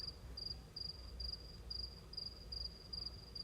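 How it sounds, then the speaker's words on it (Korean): Crickets chirp in steady, evenly spaced pulses against a quiet night background, faint and continuous with no voices. "수면에 도움이 되시도록 귀뚜라미 소리를 함께 넣었는데요"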